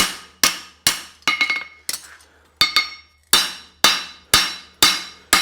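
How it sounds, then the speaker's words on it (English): A hammer strikes a steel horseshoe heel cork on an anvil in ringing metallic blows, about a dozen evenly paced hits with a few quicker double taps, each ringing out briefly, close and loud. "I'll hem the steel because I can right now while it's at this working temperature, cold working temperature"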